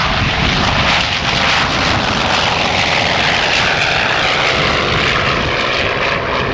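Grumman F7F Tigercat twin piston-engine fighter passing over an airshow at Coningsby in 1992, a loud sustained propeller drone and roar that holds steady across the pass, no talk.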